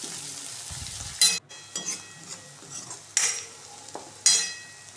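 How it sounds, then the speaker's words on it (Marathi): Onions and green chilli paste being stir-fried in a pan: a steady close sizzle with repeated sharp scraping strokes of a spatula, about four distinct scrapes over the frying hiss. "हे मधून थोडं परतून घ्यायचं जेणेकरून आपले कांदे करपले जाणार नाही."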